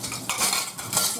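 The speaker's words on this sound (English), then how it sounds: "He's gonna grab a lid." A metal pot lid is lifted in a home kitchen, giving a couple of short clinks and scrapes of metal against metal, close and fairly loud, with no talk.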